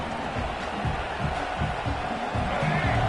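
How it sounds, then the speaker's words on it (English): Football stadium crowd roaring to back its defense at a Florida versus Texas A&M game, a dense, steady wall of distant crowd noise that swells slightly toward the end. "Listen to this crowd just shaking the girders of this place, trying to help their defense."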